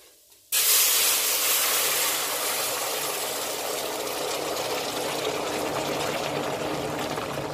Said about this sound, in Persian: بلا فاصله آب جوش رو بهش اضافه میکنم.